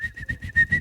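A person whistles a quick, bright trilling run of six short chirps in imitation of a bird, close and clear.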